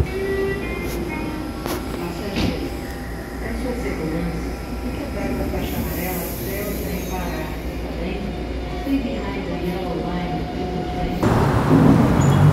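A train rumbles steadily throughout, with wheel and rail noise and occasional high squeals. Someone is riding it while heading toward a metro connection, and the loud, continuous interior noise swells near the end.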